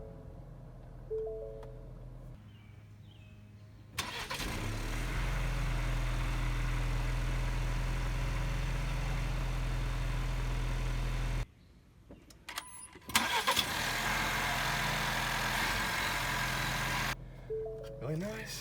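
Car with a 2.3-liter EcoBoost four-cylinder engine cranking and starting, then settling into a steady, close idle that briefly cuts and resumes, with a person talking over it at times.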